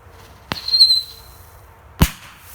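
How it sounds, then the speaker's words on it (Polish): UZI P1224 Kometa whistling firecracker set off on sand outdoors: a sharp crack, a brief high whistle, then a second loud bang about a second and a half later, with no talk. "Teraz będziemy testowali sobie tą petardkę na piachu."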